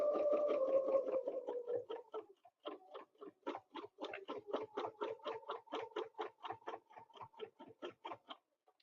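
Sewing machine double stitching along a snowflake ruler quilting template, a fast steady run of soft mechanical ticks that pauses briefly and then continues in an even rhythm, fairly faint.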